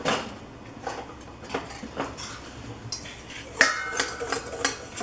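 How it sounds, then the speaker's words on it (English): Ingredients are whisked in a bowl for oatmeal molasses cookies, making quick, irregular clinks and scrapes of metal against the bowl, close and fairly loud, with no talking. "Now whisk this up and set it aside."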